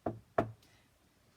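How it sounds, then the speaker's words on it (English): Two sharp knocks at a door, close and distinct, separated by a short pause, followed by quiet. "Soon there was a knock at the door."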